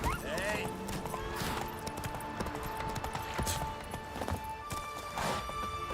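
Hoofbeats of Roach, a horse in The Witcher 3 video game, clip-clop at a gallop with a brief whinny, moderately quiet under game music and ambient sound.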